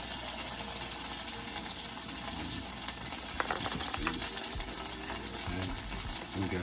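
Seasoning stirred into a pot of food: continuous scraping, stirring and wet churning noise with a dense, busy texture and a few sharper knocks midway, no talk.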